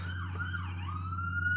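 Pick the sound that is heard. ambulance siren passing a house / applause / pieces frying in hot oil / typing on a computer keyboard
ambulance siren passing a house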